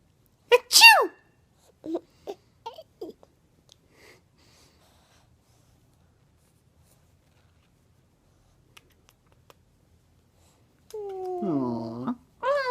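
Two short sneezes from a pet rabbit near the start, followed by a few faint snuffles, quiet stretches, and a person speaking at the end.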